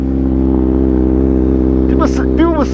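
A 2015 Kawasaki ZX-6R 636 motorcycle with a RaceFit exhaust, ridden home at night in NYC, gives a loud, steady engine drone, close and constant, with a voice speaking briefly near the end.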